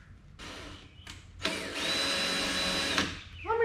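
A power drill bores a screw hole in a car's interior trim near glass, giving a short whir, a brief pause, then a steady sustained drilling run that stops abruptly, loud and close.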